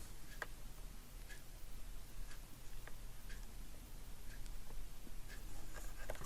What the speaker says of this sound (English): Cut this page in half at 5 1/2.